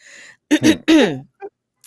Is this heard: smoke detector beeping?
no